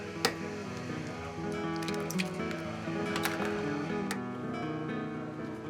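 Mato cheese cheesecake batter of fresh milk, sugar and farm eggs being mixed, giving a steady close-up run of wet squishing and soft dripping with no voices.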